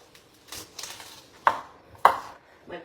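Kitchen knife cutting cabbage on a cutting board to remove the middle stem, with a few soft cuts followed by two sharper, distinct chops about half a second apart, close and moderately loud with no talk.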